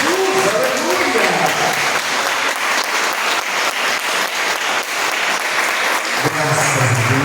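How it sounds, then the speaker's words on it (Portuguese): A church congregation breaks into loud, sustained applause during a Portuguese-language sermon, dense clapping throughout with voices calling out over it. "Agora eu te convido a dar a mais forte salva de palmas ao Senhor Jesus"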